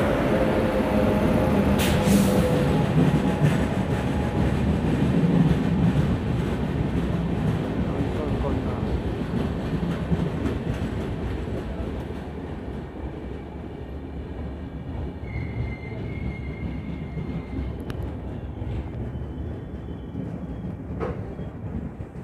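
The Kanchankanya Express, Sealdah to Alipurduar, pulls out of Sainthia station behind a WAG-9 electric locomotive, with loud heavy rolling and rumbling that slowly fades, a brief high squeal and a voice speaking over it.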